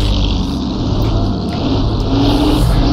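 1930s race car in Assetto Corsa on the Napoli Grand Prix course, its engine droning loud and close with steady revs and small pitch shifts, no talk over it.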